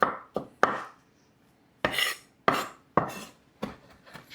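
Garlic is chopped with a knife on a cutting board in a home kitchen, making about eight crisp, sharp chops in irregular bursts with short pauses between them, close and clear with no talking.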